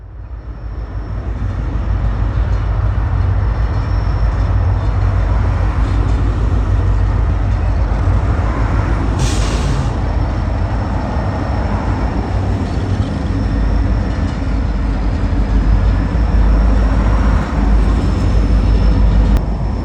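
Southern Pacific-era route over Siskiyou with a train led by big six-axle EMD diesel locomotives: a loud, steady low engine drone and rumble holding throughout, with a brief higher burst near the middle, no voices.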